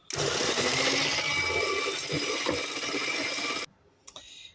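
An electric mixer whips egg whites with a pinch of salt in a bowl, a loud, steady whirring buzz for several seconds that cuts off abruptly, followed by a few faint clinks.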